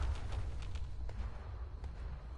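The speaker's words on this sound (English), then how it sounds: "Hot explosion." Deep, sustained explosion rumble from the video game Fallout 76, a heavy low boom rolling steadily for a couple of seconds with faint crackling on top and no separate blasts.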